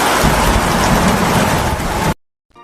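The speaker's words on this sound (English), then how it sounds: "heartbroken and suffering because of Frank, he returned immediately to Highbury as fast as he could through heavy rain just to comfort her." Heavy rain pours steadily in a dense, loud roar with a low thunder rumble beneath, then cuts off abruptly to silence.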